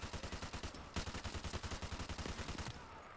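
A rapid, evenly spaced stream of automatic gunshots from a Call of Duty Modern Warfare multiplayer match fires in one sustained burst, each shot punchy and close, with no talk over it.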